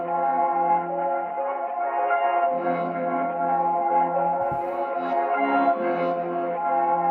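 Rendered drill beat with a dense harmonic melody washed in reverb and stereo shaping, with a reversed swell near the middle; steady, full and continuous throughout, no voices.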